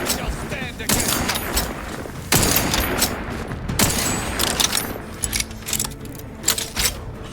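Gunfire in the video game The Outer Worlds 2, dense bursts of shots and impacts layered with game effects, loud and busy throughout, with some voices faintly mixed in.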